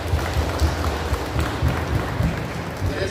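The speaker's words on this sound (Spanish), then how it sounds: "Fuerte aplauso para ellos." Guests at a wedding celebration in San Juan Mixtepec applauding the couple and their godparents, a continuous crackle of clapping over low rumbling room noise.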